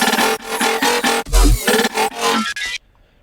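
A loud brostep drop bursts in with heavy, gritty synth bass stabs in a choppy rhythm, one deep sub hit landing midway, then cutting off abruptly into near silence.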